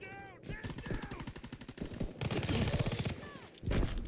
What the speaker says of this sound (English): Those MG turrets are funny.